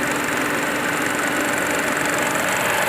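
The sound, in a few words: car engine idling with AC on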